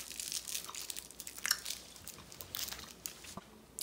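Fruit chew candy, similar to a Hi-Chew with a hint of sourness, being chewed close up, with faint sticky crunching and biting clicks spread through the few seconds and no talking.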